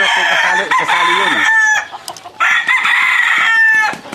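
A fighting cock crows loudly and close at a gamecock yard in Tarlac, two long drawn-out crows separated by a brief pause, with faint clucks behind them.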